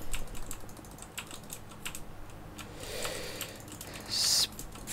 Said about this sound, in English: Frickin' spam clicking